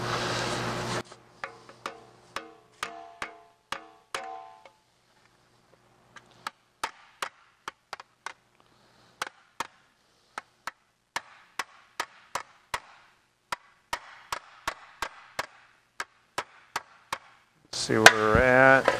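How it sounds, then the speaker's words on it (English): Sharp metallic hammer strikes on a sheet metal Jaguar E-Type fender at the edge of a bench ring out one by one in irregular bursts, close and loud, with pauses between series and a brief louder noise at the end. "It gives me room to swing my hammer."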